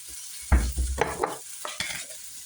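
A hash brown frying in ghee butter, crackling and sizzling up close, with a few scraping stirs and pan knocks over a couple of seconds.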